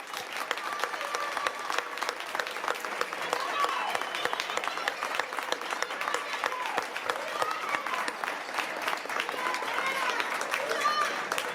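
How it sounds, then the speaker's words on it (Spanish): Crowd applause in the Spanish village of Valverde de la Vera, steady and continuous clapping from many people at moderate distance, with some voices in the crowd mixed in underneath. "¡Un aplauso para todo Valverde!"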